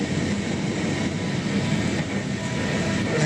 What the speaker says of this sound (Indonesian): Nah, ada kereta KRL lewat, itu dari Rangkas Bitung ke arah Tanah Abang.